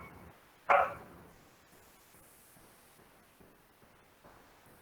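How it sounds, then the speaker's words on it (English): A single loud, sharp dog bark rings out nearby, followed by faint quieter yips and rustling in an otherwise hushed indoor setting. "Dogs barking"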